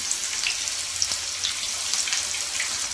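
Spinach pakoda batter fries in hot oil with a steady, dense sizzle and scattered small pops and crackles, close and constant throughout with no voices.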